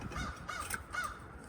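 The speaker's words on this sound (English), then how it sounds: "There's a bird." A crow caws a few times outdoors, the harsh calls fairly close and clear against quiet background noise with no talking.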